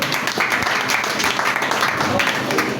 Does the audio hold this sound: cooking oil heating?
no